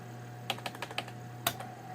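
Keys tapped on a Microsoft computer keyboard with a poorly working enter key, a quick run of light clicks followed by one sharper press, close up over a steady low electrical hum.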